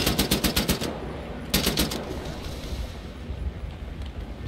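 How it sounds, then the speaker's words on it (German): Machine gun fire from the video game Wolfenstein: The New Order comes as loud rapid bursts of close shots, with a pause in between, then a steady rumbling roar of gunfire and battle noise. "Was schießt denn da?"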